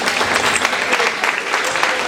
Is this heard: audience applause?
yes